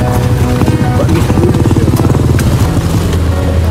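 A motorcycle engine runs loud and close throughout, with a steady low chugging rumble and no talking over it.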